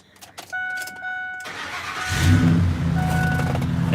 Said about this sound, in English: So we'll go in this little Expedition and let's hear the engine.